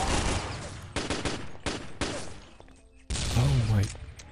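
Loud bursts of P90 submachine gun fire during a competitive NationsCup semi-final match between Belgium and Portugal, with rapid repeated volleys and a commentator talking over the action.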